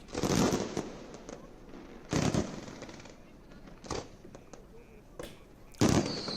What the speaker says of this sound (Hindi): काशी के आसमान में किस तरीके से आतिशबाजी